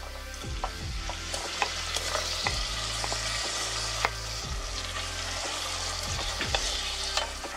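Shrimp frying in a pan, a continuous close sizzle with repeated light scraping strokes of a spatula at a regular rhythm, no talk.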